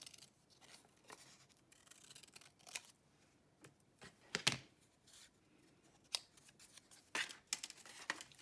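Scissors cutting paper shark puppet shapes, cutting two layers at once, heard close and quiet as a series of irregular crisp snips and rustles of paper.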